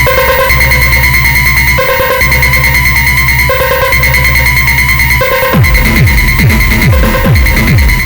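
A Korg Electribe EMX-1 plays a loud, looping electronic pattern with heavy distortion, thick pulsing bass and buzzing harmonics, and sweeping falling kick-like tones join in the last few seconds.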